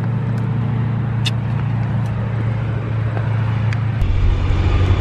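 From inside a converted bus on the road into the Adirondacks, a low steady engine rumble and road drone fill the cabin, deepening slightly near the end, with a few faint rattles and no talk.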